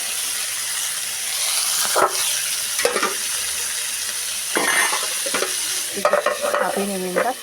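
Crab frying in a pan with turmeric and salt, a steady sizzle and hiss running throughout, broken by several short stirring scrapes and clatters against the pan, close and fairly loud.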